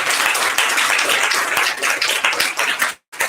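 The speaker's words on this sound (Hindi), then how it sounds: "जोर से हम प्रभु यीशु को ताली से धन्यवाद देंगे।" A congregation at a church prayer service in Varanasi claps hands together in praise, a loud, dense, sustained applause that cuts off abruptly near the end.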